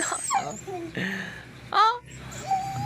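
A tethered dog whimpers and whines in short, high-pitched bursts, close by, with a person's voice in the background.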